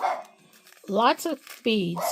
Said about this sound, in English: I apologize for my dog barking in the background if you can hear it.